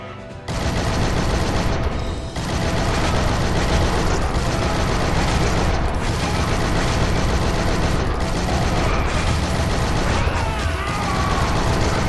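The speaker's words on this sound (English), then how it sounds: "That's a turret. And that's why they gave me the turret." Mounted gun turret in the game Shank 2 firing: loud, dense, continuous rapid automatic fire with mechanical clatter, a brief gap near the start, then sustained barrages with small breaks.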